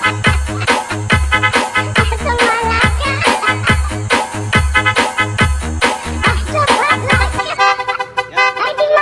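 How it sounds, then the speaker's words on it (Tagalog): A homemade DIY horn honks loudly in a steady, rapid rhythm of repeated blasts that run almost the whole time, then thins out near the end. "grabe yung busina"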